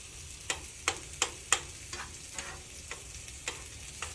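Butter melting in a Dutch oven, giving a steady soft sizzle and crackle with a series of sharper pops and taps, close and moderately loud, no voices.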